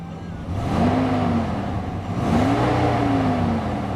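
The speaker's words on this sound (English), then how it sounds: "Revs up nicely, it idles smoothly" A 2011 Ram 1500 SLT 2WD engine gives two short revs that swell and settle back toward a smooth, steady idle, heard close and clear with no voices.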